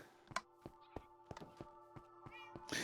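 Several short meows in Minecraft come from pet cats in a bay-side build, each a clear separate cry mixed with light tapping and thudding clicks across a quiet background.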